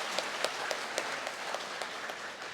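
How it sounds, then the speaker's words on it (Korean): Congregation clapping during a Catholic Mass for the feast of Saints Peter and Paul, a brief, fairly faint burst of scattered applause heard from a distance in a reverberant church. "박수 한번."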